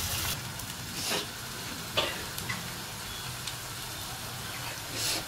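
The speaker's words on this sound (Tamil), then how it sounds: "நல்லா வதங்கட்டும்" Onions sauté in a pan for a fenugreek curry, a quiet continuous sizzle with occasional clicks and stirring scrapes of the spoon, no one speaking.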